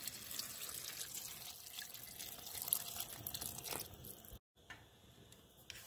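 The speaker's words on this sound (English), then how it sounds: "Let's add water." Water pouring into a cooking pan of soaked soya chunks for soya curry, a steady close splashing trickle with drips that runs for several seconds, briefly breaking off near the end before resuming.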